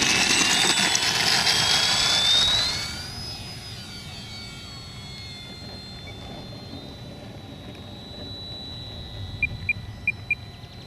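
An E-Flite Spitfire Mk XIV RC model plane, 1.2 m span, flies past with its landing gear down; a loud whining engine sweeps upward and fades into a distant drone, followed by several faint beeps.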